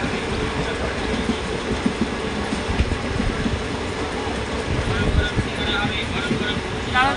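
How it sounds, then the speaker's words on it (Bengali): A passenger train runs fast, filling the clip with a steady, loud rumbling roar and faint rhythmic rattling of the carriages, with no clear talking. "খুব জোরে যাচ্ছে ট্রেনটা"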